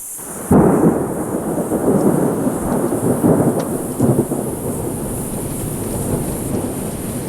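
Heavy rain pours down in a dense, roaring wash in Mostar, starting abruptly and continuing loud and steady, with deep rumbling underneath.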